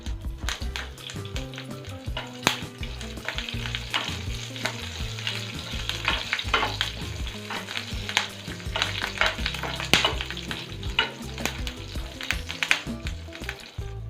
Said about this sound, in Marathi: मिरची आपल्याला थोडीशी तेलात परतून घ्यायची.